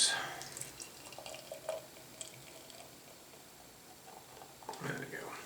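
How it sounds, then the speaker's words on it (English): Ballast Point Big Eye IPA poured from a can into a glass makes a soft, faint gurgling and fizzing, with a louder splash at the start and a rising glug near the end, quiet and close up. "And pour it out into a glass."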